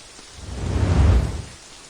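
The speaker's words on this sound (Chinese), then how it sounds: "下雨了" Rain pouring down in a dense hiss that swells to a heavy, low rumble for a moment and then eases off.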